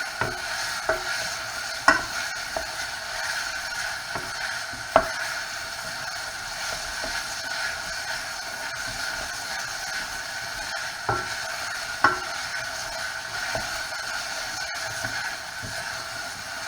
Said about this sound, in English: You need to keep stirring constantly.